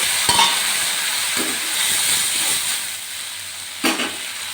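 Onion, tomato and ginger-garlic paste fry in a pan with a steady close sizzle, broken by a few sharp scraping knocks of stirring near the start and end.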